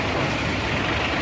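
A heavy truck, likely a cement mixer, reverses toward a container on a road works site, giving a steady, continuous engine rumble with broadband noise and no pauses.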